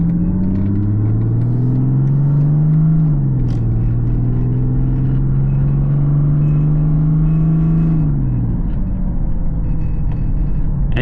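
A 26-year-old Mercedes-Benz with a Holset HX35 turbo drives along with a loud, steady engine drone heard from inside, its pitch rising and then falling back twice as it changes speed.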